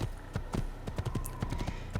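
Horse hooves clip-clop in the Assassin's Creed video game, a quick, even run of hoof strikes close by, moderately loud.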